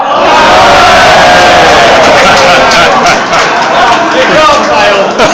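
A large audience at a live snooker exhibition breaks into loud, sustained applause mixed with crowd noise, filling the whole stretch without pause.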